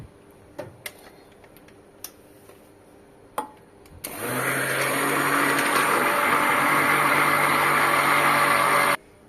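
L-glutathione powder gets blended into cold-process soap oils, first a few scattered clicks and taps, then a stick blender starts and whirs loudly and steadily for about five seconds before stopping abruptly, close and without talk.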